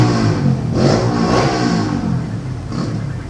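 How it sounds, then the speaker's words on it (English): A motorcycle revs hard just outside a house, its loud engine roar surging and holding close by with no break. "some idiot on a motorcycle in front of my house"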